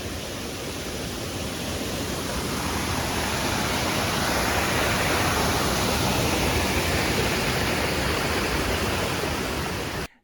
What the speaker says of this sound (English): here's some video from that falls. Waterfall number 2.